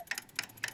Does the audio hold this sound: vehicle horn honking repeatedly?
no